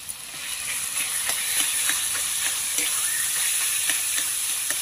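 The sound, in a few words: sautéing potato with chicken mince in a pan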